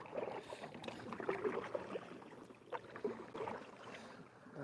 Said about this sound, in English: paddling is really easy.